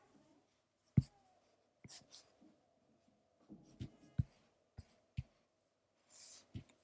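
A pencil sketches lines on paper, soft scratchy strokes and light taps coming in short irregular bursts with pauses, quiet and close, no talk.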